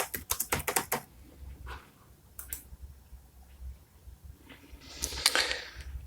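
Keystrokes on a computer keyboard entering a search term, a rapid burst of close clicks at the start, a few scattered taps after, then a short busier patch near the end.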